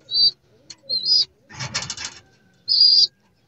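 Young racing pigeons in a loft: short bursts of wing flapping and fluttering between soft coos and chirps, close and fairly loud with quiet gaps.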